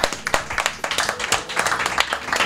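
Audience applause at a live comedy show, a dense patter of clapping hands that fills the whole short stretch, steady and fairly close, with no talk over it.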